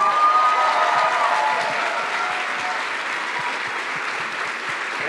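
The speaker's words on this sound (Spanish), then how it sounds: "denle un mega aplauso a Jaime" A conference audience at Pixelatl 2022 applauds a speaker called up to close the presentation, a full, even wash of clapping from many hands that stays loud and slowly eases throughout.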